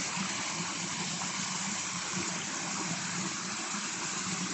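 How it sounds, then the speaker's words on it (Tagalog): Water pouring and gushing continuously through a man-made creek at a park, a steady, full rushing wash that is close and fairly loud, with no talking over it. "Man-made creek lang po."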